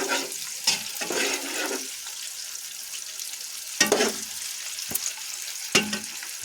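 Spices frying in hot oil while Katla fish head muri ghonto is cooked, a steady crackling sizzle, broken by a few sharp spattering bursts and stirring clatters, with no voices.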